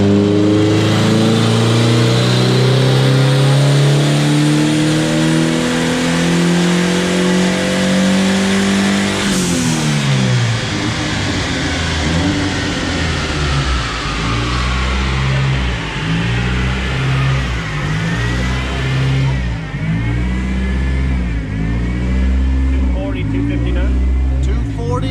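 A restored 1984 Ford Capri revs hard on a dyno, its engine climbing steadily in pitch for several seconds, then dropping off and settling into a loud, lumpy idle with pulsing exhaust, heard up close and without anyone talking.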